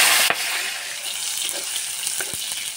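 Chopped tomato hits hot oil with a bay leaf and dried chillies, giving a steady close sizzle and crackle under a sharp clink, with a few soft stirring knocks and no voices.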